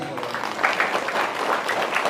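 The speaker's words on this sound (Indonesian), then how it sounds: "Tepuk tangan lagi." Audience applause at an Indonesian political talk, a steady patter of clapping from a crowd lasting about two seconds, moderately loud with no voice over it.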